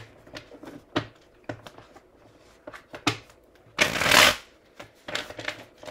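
Tarot cards shuffled and riffled by hand, a run of soft flicks and taps with one loud, dense burst of riffling midway, close and alone with no talk.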